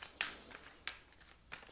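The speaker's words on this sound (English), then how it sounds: "as I begin to shuffle" A deck of cards being shuffled, faint and close, with a few short riffling bursts and soft card taps spread over under two seconds.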